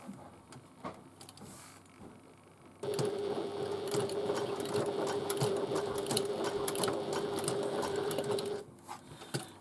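A sewing machine stitches across the end of a fabric Julie bag, its steady motor whir starting abruptly after a few seconds of quiet, running for about six seconds, then stopping.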